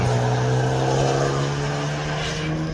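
A Hyundai i20N hatchback engine drones steadily at close range with a sustained tonal hum, loud and continuous throughout, with no voices, at the Nürburgring.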